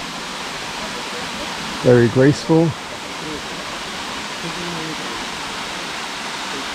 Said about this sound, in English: Here is Marymere Falls in Olympic National Park.